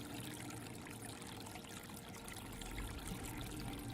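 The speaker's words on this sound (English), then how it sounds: "as you move into the water begins to bubble right in front of you." Water bubbling up in a tabletop role-playing game scene, a steady broadband trickling and churning wash that holds at an even level throughout without talk.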